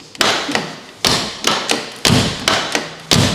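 A Tofaş car door is slammed shut again and again, with about seven heavy, close thuds at irregular intervals and no talking.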